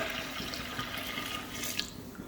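Water pours steadily into a pot of chicken pulao with chicken broth, a continuous splashing rush throughout the short moment.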